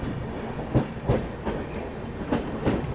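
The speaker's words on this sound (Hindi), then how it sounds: "क्या ज़बरदस्त ट्रैक साउंड आ रहा है भाई साहब, मज़ा आ गया।" A passenger train on the Ratlam to Delhi line via Kota rolls along the track with a steady, rhythmic clickety-clack of wheels over rail joints, heard from inside the carriage over a constant rumble.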